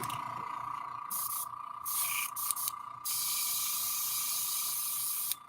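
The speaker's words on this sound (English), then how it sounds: "I'm going to have to kick on my airbrush here." An airbrush sprays in short hissing bursts, then settles into a steady continuous hiss, close to the microphone and without any speech.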